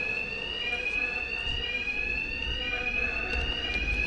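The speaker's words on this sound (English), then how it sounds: "My attacks will be covered by the noise of the alarm." A continuous electronic alarm rings steadily inside the Batman Arkham Knight video game, a high unbroken tone with a few faint chirps over a low background rumble.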